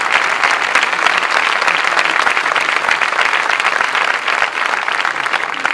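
Sustained, loud applause from a gathered crowd at a Falange Española y las JONS anniversary event, dense and steady throughout with no speech over it.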